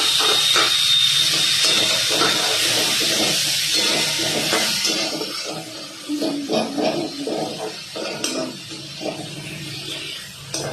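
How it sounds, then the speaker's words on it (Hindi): Tomatoes tipped into a hot pan with garam masala, bursting into a loud hissing sizzle that gradually settles into crackling and bubbling. "अब मैं इसके ऊपर से ये टमाटर डाल देती हूँ।"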